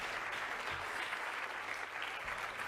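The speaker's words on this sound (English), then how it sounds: "I think that deserves a round of applause." Audience applause at a Formula 1 Alpine A524 car launch event, a steady dense wash of clapping held at even loudness throughout, with no voices over it.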